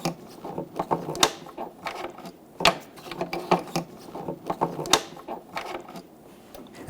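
Tail light bulb sockets on a Toyota Tundra are twisted counterclockwise, producing a run of close plastic clicks and ratcheting snaps in uneven bursts.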